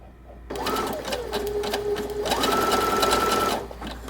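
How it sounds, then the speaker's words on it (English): A sewing machine set to its widest zigzag stitches over the nylon coils of a zipper, a close, steady whirring hum that runs in two bursts with a rising pitch in the second. "with the sewing machine set to the widest setting, it's going to go over the nylon coils."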